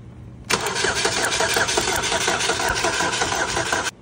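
A 2012 Buick Regal 2.0L turbo with low compression on cylinder one cranks and catches after a brief quiet moment, then runs at a steady, close, slightly uneven idle for several seconds before cutting off abruptly.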